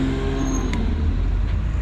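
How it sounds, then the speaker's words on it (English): Steady low rumble of road traffic as several Porsche sports cars leave a Porsche show, a continuous engine drone with no distinct pass-by peak, moderately loud and without voices. "Here's some more Porsches."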